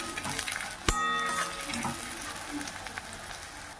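Sliced onions with chillies sauté in a hot pan, a soft steady sizzle with a sharp clank of the stirring spoon near the start and faint scraping after it. The sound is quiet and close, with no voices.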